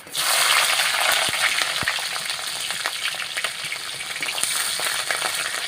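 Panch phoron seeds hit hot oil with a sudden loud sizzle, then keep crackling and spitting close by, with scattered sharp pops and ticks over a steady hiss.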